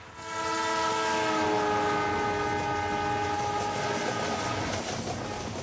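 An Indian Railways train rumbles past with its horn sounding loud and sustained over the continuous roar of wheels on the track.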